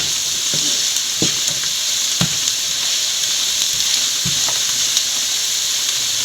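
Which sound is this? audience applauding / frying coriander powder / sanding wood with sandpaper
frying coriander powder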